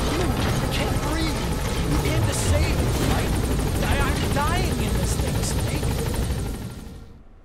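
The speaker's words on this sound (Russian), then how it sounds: "Вертолет уже спускается к нам" A helicopter descending in the video game Metal Gear Solid V: The Phantom Pain, its steady loud rotor drone filling the scene under voices before fading away at the end.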